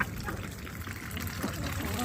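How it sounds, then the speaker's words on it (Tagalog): Water poured out for ducks and geese, a faint soft trickling and splashing close by over low background noise. "So ito, ilagyan ko ng tubig."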